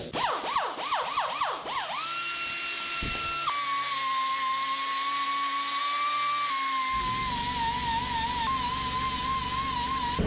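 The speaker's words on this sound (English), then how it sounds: "So I'm not saying you should grind on your pads by any means, but that's what we're about to do" A power tool grinds down vehicle brake pads in humid weather, putting a bevel on the edge. Its high, steady whine runs loud and continuous throughout, with pitch rising and dropping as the tool works, with no voices.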